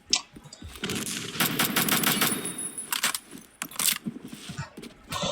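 Sturmgewehr rifle fire in the video game Phantom Forces comes as several sharp bursts of rapid shots, loud and close, with a rattling run of fire in the middle and separate cracks near the end.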